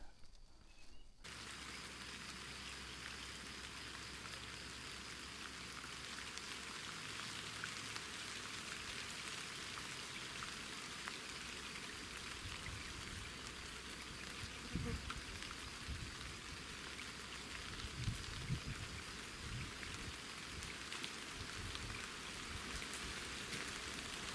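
Steady rain falls by a river during a fishing trip, a dense even patter on surfaces that continues throughout at moderate level, with a few faint knocks and no talk.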